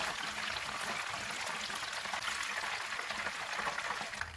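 Chicken strips fry in hot oil with a steady, bright crackling sizzle, dense and continuous, close and moderately quiet with no talking.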